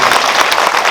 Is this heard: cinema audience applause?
yes